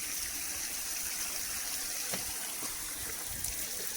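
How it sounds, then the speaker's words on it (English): Spring water flows out from under a mountain in the Tayrona jungle, a steady, close gush and trickle without pause. "It's actually coming from under the mountain, and it comes out over here where I'm located."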